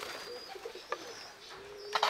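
Soft coos from Denizli Dolapçı pigeons murmur in the background, with a few faint chirps, fairly quiet and close.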